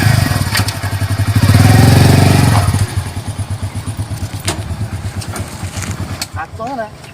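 A motorcycle engine revs loudly and close for about two seconds, then drops to a rhythmic, thumping idle with some clatter, while people talk over it near the end.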